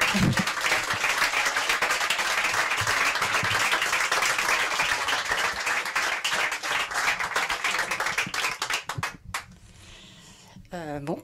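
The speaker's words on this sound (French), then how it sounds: "on peut encore l'applaudir parce qu'il a fait un travail de fou" A debate audience gives Fabien sustained applause, a dense clapping crowd that holds steady before thinning into scattered claps and briefly dropping away near the end.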